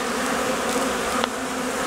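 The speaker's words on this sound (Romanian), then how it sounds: "uite aici albinuțele cum vin, iată cu, chiar cu polenul, cu înlocuitorul de polen" Honeybees buzzing at a hive entrance in February as foragers return carrying pollen substitute; a steady, close, continuous hum with a brief sharper flick near the middle.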